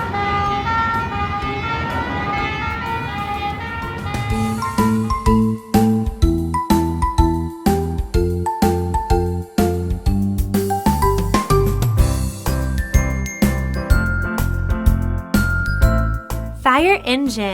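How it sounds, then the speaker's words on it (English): A fire rescue ladder truck's siren wails in wavering tones at the start, then gives way to a loud, rhythmic, jingly musical beat that carries on to the end. "Fire rescue ladder truck."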